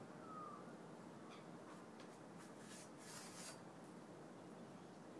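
Gritty scratching and rasping from a tripod leg joint packed with sand and grit after beach and river use, a quiet, steady rubbing scrape that continues throughout with a few brighter rasps midway.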